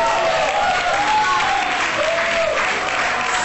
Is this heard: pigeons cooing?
no